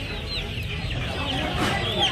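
Chickens and young chicks at a Nepalgunj poultry market cluck and chirp steadily at moderate volume, with soft crowd noise underneath and occasional sharper bird calls.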